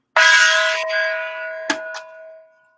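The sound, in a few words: gong sound effect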